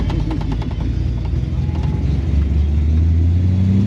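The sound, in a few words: Ford XA GT 351 Cleveland V8 engine rumble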